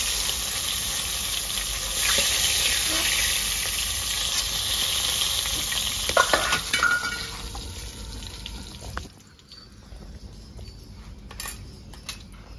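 Pomfret fish sizzles and crackles steadily in hot oil, cooked village style, with a dense frying hiss that drops off sharply near the end as the pieces are lifted out, leaving faint kitchen clatter.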